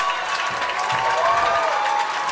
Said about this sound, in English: Now this crowd as fired up as it's been all night